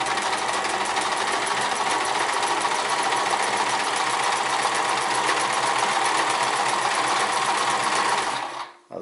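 A Sears Kenmore 158 sewing machine stitches a buttonhole through marine vinyl, a loud, steady, rapid mechanical whir with constant needle clatter running nearly nine seconds before stopping abruptly at the end.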